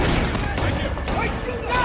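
Dense, continuous gunfire from a film shootout between police and a drug lord's crew, with overlapping shots crackling loudly and close throughout, joined by brief shouted voices.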